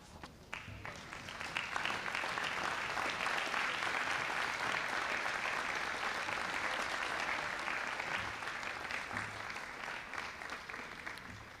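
A graduating class at a 2022 commencement ceremony stands and applauds, a dense, steady wash of many hands clapping that swells within a couple of seconds and holds for over ten seconds before easing slightly.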